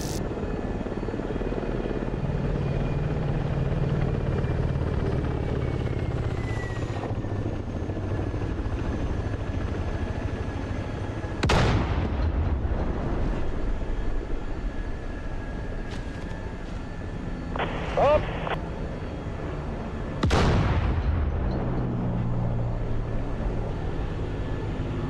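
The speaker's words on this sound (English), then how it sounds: "I might be shooting at wrecks, that's the trouble." Aircraft gunfire in the DCS flight simulator game: two sharp broadband bursts stand out over a steady, loud helicopter-like engine drone, with a shorter tonal burst between them.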